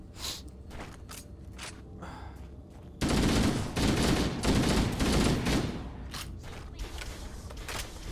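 Gunfire in Halo: Combat Evolved, a dense burst of rapid automatic shots and impacts that erupts after a quieter stretch of game noise and continues in loud bursts.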